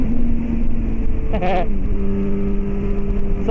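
A Honda Hornet motorcycle idles steadily on a night ride, its engine briefly revving up and back down, loud and close throughout.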